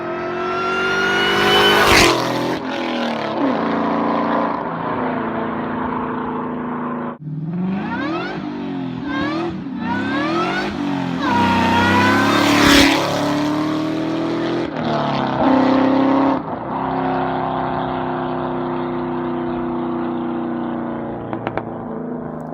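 A supercharged Ford Mustang 4.6L V8 fitted with a Torque Tech kit using the 2003–04 Cobra supercharger, revving repeatedly with sharp rises and falls between steady idling, loud and close, with no talk.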